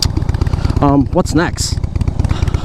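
A Softail Slim motorcycle fitted with Vance & Hines Short Shots exhaust runs with a loud, rapid, throbbing exhaust beat, close by, while someone talks over it.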